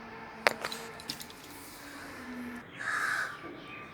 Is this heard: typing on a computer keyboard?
no